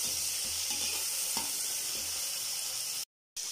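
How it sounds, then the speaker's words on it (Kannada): Fenugreek leaves frying in oil for methi pulao hiss in a continuous close sizzle with light stirring scrapes, cutting out briefly to silence just before the end. "ಮೆಂತ್ಯ ಸೊಪ್ಪು ಹಾಕಿ ಚೆನ್ನಾಗಿ ಫ್ರೈ ಮಾಡ್ಕೋಬೇಕಾಗತ್ತೆ."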